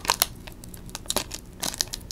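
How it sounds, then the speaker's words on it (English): A trading card pack is torn open close up with a few quick crinkling rips and foil rustles spread over about two seconds. "Now I'm just going to rip into this pack."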